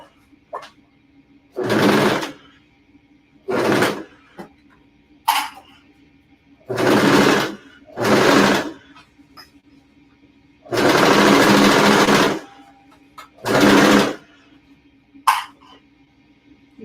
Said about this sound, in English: I'm just gonna start sewing at an angle.